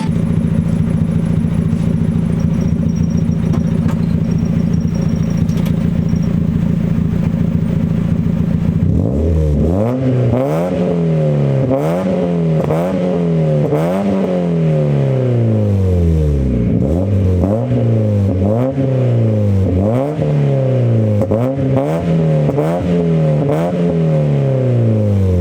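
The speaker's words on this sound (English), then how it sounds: "let me give you a few revs" A Mazda NA Miata engine with a custom exhaust idles with a deep, throaty rumble, then revs repeatedly in loud, rising and falling bursts, close by with no talking.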